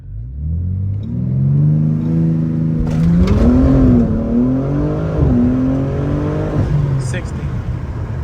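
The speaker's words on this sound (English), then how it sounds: "I'm gonna try to actually launch control it, and then I'm gonna try to brake boost" A BMW M sports car, an M3 G80 or M5 F90, launches hard from a standstill under launch control, its engine revving in a loud close rising roar through the gears while someone talks over it.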